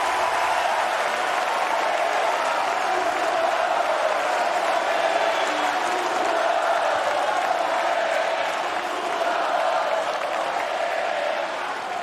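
A US Open tennis crowd at the Fonseca versus Machac match applauds and cheers in a dense, steady wash of clapping and shouts that holds loud throughout.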